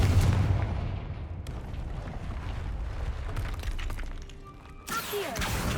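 A Confringo blasting spell cast in Hogwarts Legacy: an opening burst that shatters and decays into a rumbling tail, followed by a second sharp crackling blast near the end, heard without speech.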